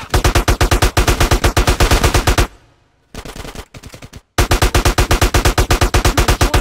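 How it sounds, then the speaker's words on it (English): Rapid automatic gunfire in GTA San Andreas Definitive Edition, loud and close, in long sustained bursts broken by a short lull and a second shorter volley before the firing resumes. "Get some suppressing fire in there!"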